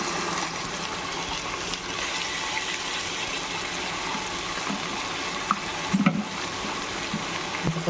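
Ginger garlic paste frying and being stirred in a pan for veg pulao: continuous hissing sizzle throughout, with a few scraping stir knocks near the end and no talking.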